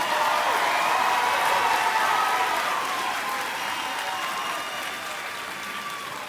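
A crowd at a high school graduation ceremony applauds the graduating students, the dense clapping filling the space and slowly tapering off toward the end.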